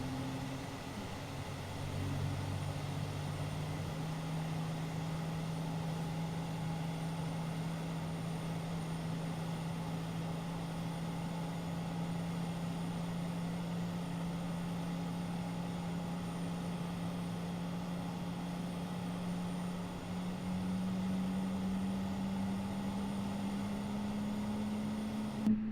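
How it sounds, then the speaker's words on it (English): Airbus A320 engines spooling up in Microsoft Flight Simulator 2020 during pushback at Miami: a steady, continuous engine drone with a slowly rising tone, constant and fairly loud throughout, with no talking. "Oh, I love the sound of these Airbus engines firing up."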